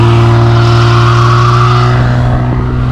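A BMW E36 with a swapped-in M50 six-cylinder engine revs hard and steadily while held on the brake, one rear wheel spinning without a limited-slip differential; a loud, sustained close-up drone with a faint tire scrub near the end.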